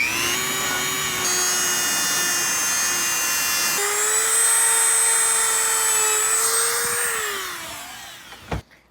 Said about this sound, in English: I have it on a Dremel. Just get some on there and polish away.